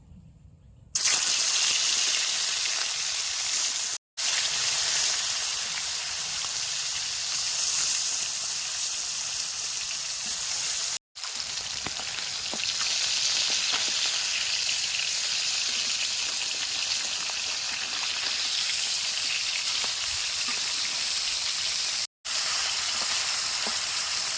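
Fish rubbed with turmeric and salt fries in hot white oil in a village kadai, giving a loud, continuous hissing sizzle that holds steady close by.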